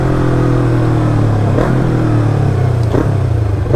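A Yamaha MT-03 motorcycle engine hums steadily at moderate revs during a relaxed ride, with a continuous low drone and slight throttle swells, close and loud without any talking.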